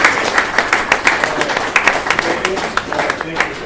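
An audience at a community paramedicine session claps with sharp, uneven hand strikes that rise and fade, with a voice carrying over the applause.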